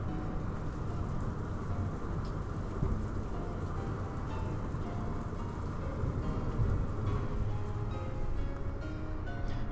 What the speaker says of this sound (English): At that time, the sound of the thunder rang out